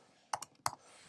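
Keys on a computer keyboard are pressed for a shortcut, two quick pairs of crisp clicks close by in an otherwise quiet room.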